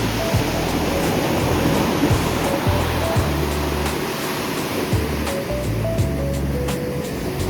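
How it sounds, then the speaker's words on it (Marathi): Sea waves wash onto Chivla Beach in Malvan as a loud, continuous roar of surf, heard up close with no one talking. "मस्त लाटा येतात आहे यार"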